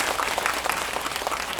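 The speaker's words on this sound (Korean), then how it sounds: "박수 부탁드립니다." Audience applause fills a cinema hall at a Parasite film talk event at Megabox COEX MX hall: dense, steady clapping from a large crowd, loud and sustained throughout without a break.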